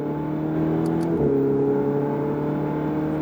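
A Ferrari on a driving course gives a steady, loud engine drone that shifts pitch partway through as it accelerates, with no voices.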